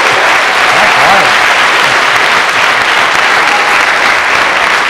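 Audience applause at a keynote Q&A session, dense sustained clapping from a crowd in a hall, loud and even throughout, with a voice faintly audible under it.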